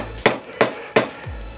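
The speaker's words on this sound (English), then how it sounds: "So the hammer seems to be doing the trick" A hammer drives a star nut into a motorbike fork: three sharp, evenly spaced metallic strikes about a third of a second apart, close and loud.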